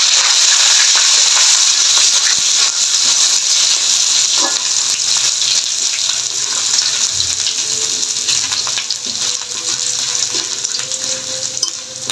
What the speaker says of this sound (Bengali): পাঁচফোড়নটা একটু পুড়ে এসেছে, এখন আমি আদাটা দিয়ে দিচ্ছি, তেজপাতাটা।